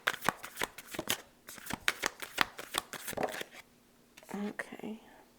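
A tarot deck shuffled in close, crisp repeated flicks and riffles, followed by a few softer card slides as one card is pulled, with faint whispered speech near the end.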